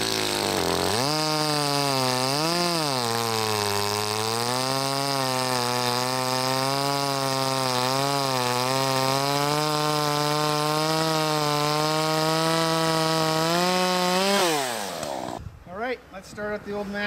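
A Poulan chainsaw runs steadily at high revs while cutting wood, a loud continuous engine whine with slight pitch dips over about fourteen seconds before it drops away and stops.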